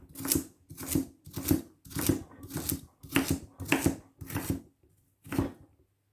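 A knife chops through food on a board in about nine evenly spaced, crisp strokes with a short pause before the last one, close up and without speech.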